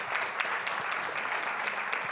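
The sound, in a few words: audience applauding a mayor at a conference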